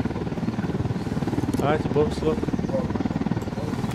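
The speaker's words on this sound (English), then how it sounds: "Taking off with a helicopter." Helicopter in the video game Ghost Recon Wildlands taking off, a steady rotor and engine drone running throughout under loud overlapping speech from several players.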